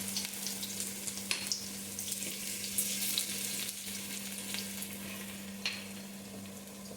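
Finely chopped garlic frying in oil in a pan over a low flame, a steady soft sizzle with faint scraping and clinks of stirring throughout, no voices.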